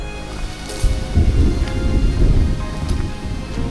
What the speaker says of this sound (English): We are hiking in the middle of a rainstorm.